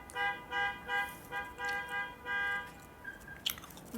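A voice mimics a car horn with a series of short, steady honking tones, about seven bursts, followed by a brief pause and some faint noises.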